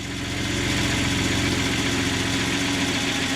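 A car engine idles steadily during a GM 6L45 automatic transmission service, giving a close, even, low mechanical rumble with a faint vibrating buzz.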